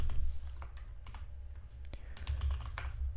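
Keys on a computer keyboard are typed in a quiet, irregular series of light clicks, close by, with a hint of low voice in the background.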